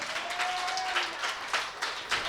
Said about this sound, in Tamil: உற்சாகமா ஊழியத்துக்கு ஒரு கைத்தட்டு கொடுங்களேன்.